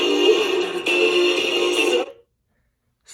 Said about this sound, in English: The alarm just plays the radio, which sounds like this half the time.